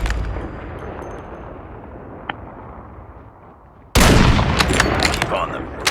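Sniper rifle fire in Call of Duty Mobile: a fading, rumbling echo of a shot trails off, then a sudden loud blast opens a noisy stretch of booming gunfire and clatter close to the listener.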